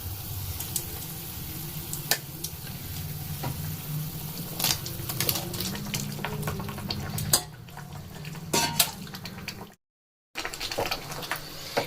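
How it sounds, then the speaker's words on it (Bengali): Boiled jackfruit pieces going into a bubbling curry gravy and being stirred, with a soft ongoing sizzle, scraping and clinking of a spoon against the pot, and a sharp cut to near silence toward the end. "ঝোল ফুটে গেছে, এবারে এঁচড়গুলোকে দেব।"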